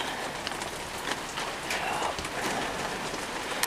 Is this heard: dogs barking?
no